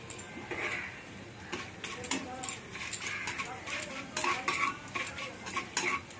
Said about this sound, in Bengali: ফোড়নটা একটু ভাজা ভাজা হবে।